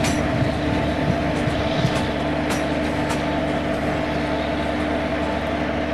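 An Indian WAP7 electric locomotive hauling a train on the Himachal route in Trainz Simulator, a steady rolling rumble with a low engine drone and faint clanks, continuous and close, no voices.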